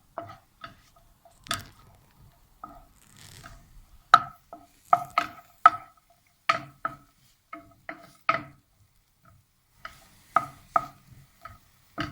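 Onions frying in a pan for an omelette, with sharp, irregular scrapes and clicks of a utensil stirring against the pan, isolated strokes separated by quiet gaps and only faint sizzle.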